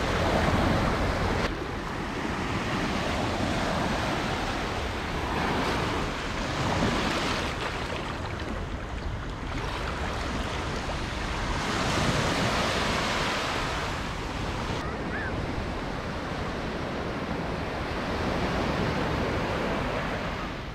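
Surf at Calicut beach in Kerala rolls in as a continuous broad roar with slow swells, heavy wind buffeting the microphone throughout.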